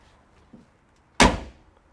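The door of a classic Porsche G50 Targa makes one solid, close clunk with a brief ring-out after a faint click and a quiet stretch.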